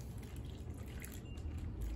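Water poured into a bag of crushed cochineal bugs, a soft, continuous close-up trickle and dribble of liquid lasting about two seconds with no talking.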